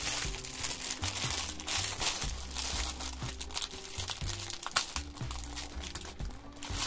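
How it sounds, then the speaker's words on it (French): Crinkling and crumpling of a plastic wrapper as a cross-stitch canvas is pulled out of its packaging, a steady close rustle running throughout with a low hum of music beneath. "J'ouvre la toile."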